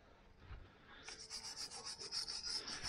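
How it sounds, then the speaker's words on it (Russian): A brush scrubs dirt off a Volkswagen Passat CC brake caliper with short, repeated rasping strokes that grow quicker and harsher, close up with no talking. "берем щеточку, начинаем все зачищать. Сбиваем грязь, которая тут куча."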